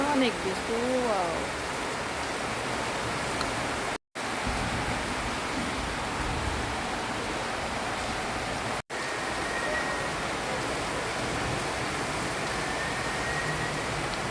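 Heavy rain pours steadily outside an eleven-storey apartment building, a dense, even hiss that continues throughout, with a brief voice near the start.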